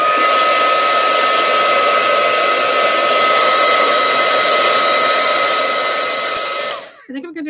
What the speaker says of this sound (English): let me grab out my thing, my heat gun, so I can force it to dry.